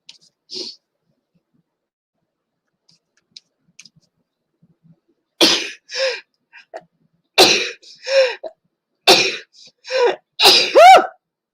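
A quiet stretch with a couple of faint clicks, then a run of about six sharp sneezes in quick succession, close and fairly loud.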